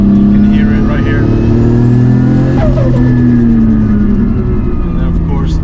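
A single-turbo Nissan R34 GT-R engine revs up into boost around 4,000 rpm, a loud, rising drone that climbs steadily while a person talks over it.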